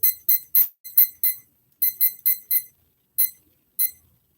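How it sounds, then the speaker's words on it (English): Kitchen timer alarm sounding in sharp, bright bursts of rapid beeps, grouped irregularly with short gaps between them, close and clear over an otherwise quiet room. "I am just putting on a timer for 2 hours"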